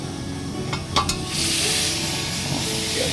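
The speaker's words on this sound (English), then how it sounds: "Got a good sizzle here now." Food sizzling in a pan on a camp stove inside a converted school bus: a few metal clinks of a utensil, then a loud steady hiss and crackle of frying that carries on to the end.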